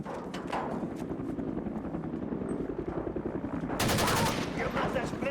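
Rapid automatic gunfire rattles through an action scene in a low-budget Ugandan film, close and dense, growing louder and harsher near the end.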